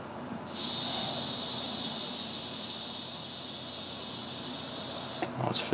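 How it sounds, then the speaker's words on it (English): Homemade yeast-carbonated ginger ale releasing its gas: a loud, steady, bright hiss begins abruptly, holds for about five seconds, then cuts off with a brief clatter, with no talking. "Oh, it's fizzing up."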